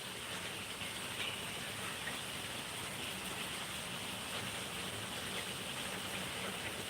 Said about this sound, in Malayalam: ആ സമയമായപ്പോൾ കറക്റ്റ് മഴ വന്നു